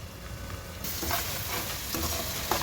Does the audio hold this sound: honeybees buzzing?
no